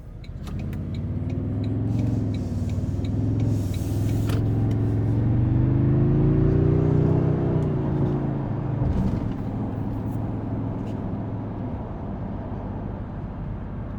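Interior of a 2023-2025 Toyota Sequoia on the road, a continuous low engine and road drone that rises in pitch mid-way as the vehicle accelerates, then settles into a steady cabin hum, no one speaking.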